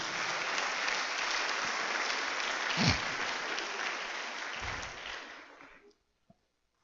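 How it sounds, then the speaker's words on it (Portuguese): A church congregation gives loud sustained applause, a dense wash of clapping for about six seconds with a brief stronger burst midway, then fading out abruptly to near silence. "Dê um aplauso bem forte ao Senhor mesmo."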